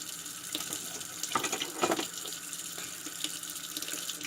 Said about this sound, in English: make sure you get the water down in there and get the powder out